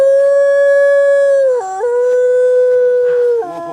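A dog lets out a long, loud howl that dips in pitch midway, then carries on in a steady wail before breaking off. No other sounds.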